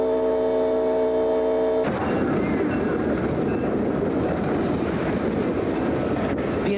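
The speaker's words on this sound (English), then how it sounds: "The train begins to pick up speed." A train runs at speed along railway tracks, a dense continuous rumble and rattle of wheels on rails after a brief tonal horn-like start, steady and fairly loud throughout.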